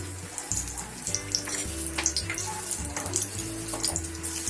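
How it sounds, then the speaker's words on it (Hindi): Green chillies coated in gram flour batter deep-fry in hot oil, a close, busy bubbling crackle with popping spatters over a low rumble, steady throughout. "ये हम हरी मिर्च को फ्राई करते हैं बेसन में डीप करके।"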